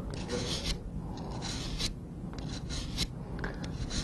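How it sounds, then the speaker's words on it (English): Curved pruner blade rubbed against a DMT diamond sharpener in repeated rasping strokes, close and fairly quiet, with no speech. "then I will progress to the finer grit."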